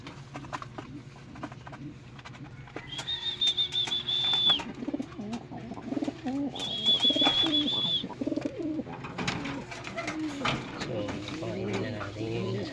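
Pigeons coo in low repeated bursts close by, with a few higher bird calls and background voices talking over the flock.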